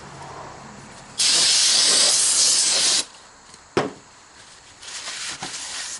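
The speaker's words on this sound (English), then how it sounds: "Hit them with the brake clean." Brake cleaner sprays onto drum brake parts of a 2006 Ford Ranger 3.0 in one loud, steady hiss of about two seconds, then shorter, quieter bursts after a brief pause.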